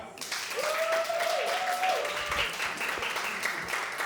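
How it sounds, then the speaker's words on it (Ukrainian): Audience applause at a Ukrainian roast battle comedy show, a dense steady clapping from a live crowd that holds for the whole stretch, with a sustained vocal whoop or tone rising above it for a moment early on. "Ваші оплески."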